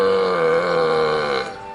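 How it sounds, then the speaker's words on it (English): Characters in the video game Obenseuer burp, a long, deep, drawn-out belch that rumbles loudly on its own for over a second and then fades. "Why are they all burping?"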